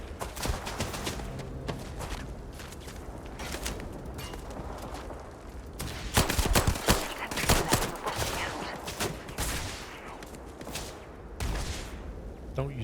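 Turrets in Starfield keep firing in dense, rapid bursts of gunfire that build and fade over the scene, close and busy, with a voice talking over them.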